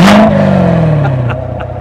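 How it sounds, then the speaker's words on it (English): A Corvette V8 with centre-mounted quad exhaust pipes barks into a loud, close rev, and the engine note sinks as the revs fall away. "Let's take a listen to this Corvette."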